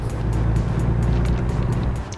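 A truck drives steadily in American Truck Simulator, its engine giving a continuous low rumbling drone with faint periodic whooshes, alone and unbroken.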